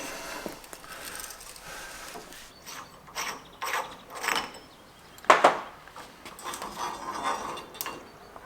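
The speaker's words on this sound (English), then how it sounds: "We're going to release these sort of locking nuts on the spring." Locking nuts on the suspension spring of a Honda XL 250R motorcycle are loosened, giving a series of close metallic ratcheting clicks and scrapes in irregular bursts, with one sharper metal clink partway through.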